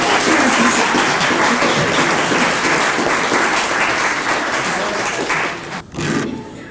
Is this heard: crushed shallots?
no